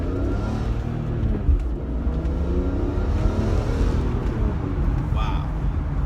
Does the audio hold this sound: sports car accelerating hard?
yes